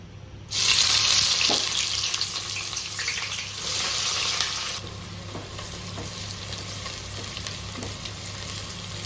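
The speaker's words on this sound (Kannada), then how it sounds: "ಈಗ ನೀರುಳ್ಳಿ ಫ್ರೈ ಮಾಡಲಿಕ್ಕೆ ನಾನೊಂದು ಬನಾನ ತಗೊಂಡಿದ್ದೇನೆ, ಒಂದು 100 ml ಅಷ್ಟು ಎಣ್ಣೆ ತಗೊಂಡಿದ್ದೇನೆ ನಾನು ಈರುಳ್ಳಿ ಫ್ರೈ ಮಾಡಲಿಕ್ಕೆ" Onions frying in about 100 ml of oil in a pan, a loud crackling sizzle bursting in as they hit the hot oil, then settling into a steady hiss with occasional spatula knocks, no talking.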